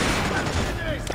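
Machine gun turret fire from Splinter Cell Conviction, a brief, dense burst of rapid rattling shots that stays loud and close for about a second.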